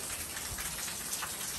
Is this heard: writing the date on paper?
no